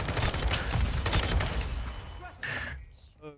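Dense bursts of gunfire from Call of Duty: Modern Warfare 2 crackle and boom for about two seconds, then fade as a brief game sound and short chirps close the moment; a voice talks over the shots.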